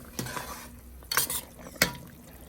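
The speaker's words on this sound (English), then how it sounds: "All right, give it a stir." A spoon stirs ramen noodle soup with wagyu beef in a pot, making three quick scraping, clinking strokes against the metal with a light simmer underneath, close and fairly loud.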